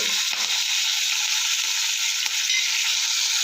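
Curry leaves, mustard seeds and cumin tempering in hot oil make a loud, dense hiss that holds steady throughout, with a faint clatter early on.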